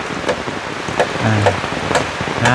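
Steady rain falls during a rooftop view of a hut under construction, a broad continuous wash with scattered heavier splashes and low rumbles beneath.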